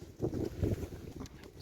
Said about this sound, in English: It's quite windy already again here.